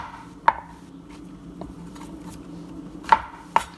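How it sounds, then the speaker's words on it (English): A knife chops shiitake and button mushrooms on a cutting board, with a few sharp, sparse knocks against quiet kitchen background. "we're gonna just quickly remove the stem like that, and then we're gonna cut that into quarters. The same with the button mushroom."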